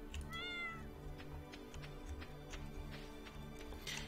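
Cat meows from petting a cat in the Stardew Valley video game, a rising, wavering meow near the start over steady game music with faint ticking clicks.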